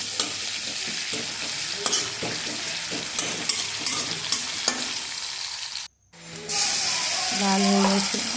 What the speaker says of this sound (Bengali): পেঁয়াজ দিয়ে দিলাম পাঁচ ফোড়ন দেবো